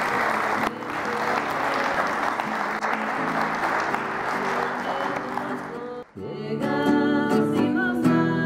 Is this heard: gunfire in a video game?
no